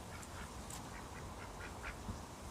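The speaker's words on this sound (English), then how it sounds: "there's the local duck population" Ducks quack at a riverside free campsite in Tasmania, several short calls scattered at a distance over a faint, steady outdoor background.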